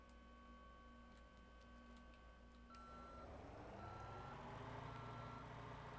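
Garbage truck reversing alarm in the driving game Motor Town, a steady loud series of evenly spaced electronic beeps, joined partway through by rising engine rumble and road noise.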